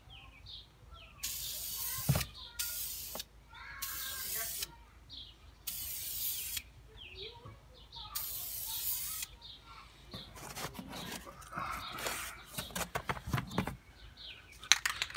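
A spray paint can puts a solid colour coat on a DIY project in five short, sharp hissing bursts, each about a second long. Quiet pauses separate them, followed by faint handling clatter near the end.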